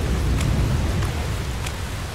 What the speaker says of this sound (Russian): А дождь стал еще хлеще